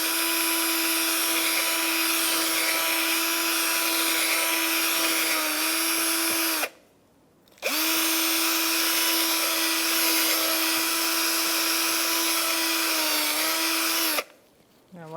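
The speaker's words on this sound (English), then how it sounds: "So we're going to wire brush all this" A power wire brush whines steadily while cleaning rear brake parts on a 2014-2019 Kia Soul, running loud and continuous for about seven seconds, stopping briefly, then running again before a second short pause.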